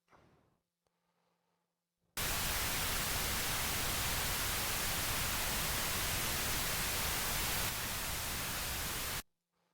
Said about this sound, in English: So yeah, that's the carrier waveform, just stereo noise.